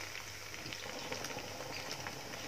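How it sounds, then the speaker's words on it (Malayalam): Tandoori chicken pakoras deep-fry in hot oil over a medium flame, making a soft, even bubbling hiss that stays faint and constant with no voices. "ഇനി ഒരു മീഡിയം ഫ്ലെയിമിൽ വെച്ചിട്ട് നന്നായിട്ട് ഫ്രൈ ചെയ്തെടുക്കുക"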